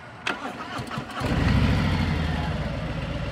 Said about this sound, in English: So I'm going to turn the bike on